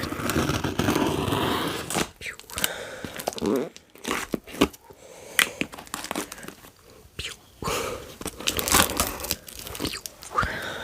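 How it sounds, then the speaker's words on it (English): A small razor slices open a package close up, with scratchy crunching and crinkling of packaging as it cuts, under quiet whispered talk. "So I got a little razor. I'm just gonna slice it open."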